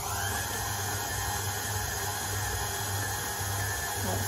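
Chocolate courgette cake batter being beaten faster with an electric mixer, giving a loud, steady, close whirring drone that holds unbroken with no talking.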